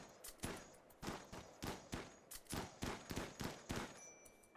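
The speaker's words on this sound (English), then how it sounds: "you can see the bullets dropping out of the side of the gun as he's shooting" Rapid repeated gunshots from RimWorld with the Combat Extended mod, a steady rhythmic string of roughly a dozen sharp cracks at moderate level, with no talking.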